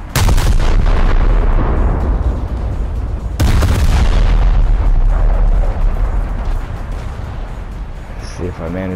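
Naval guns fire in War Thunder naval realistic battles: two huge booming shots about three seconds apart, each decaying into a long rumbling roar.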